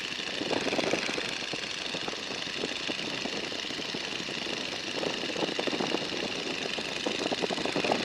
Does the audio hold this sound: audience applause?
no